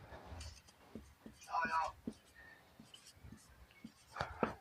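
Pen or marker writing on paper or a board during a Class 10 maths lesson on real numbers, a few soft scratchy strokes in bursts under a teacher's ongoing speech and low room noise.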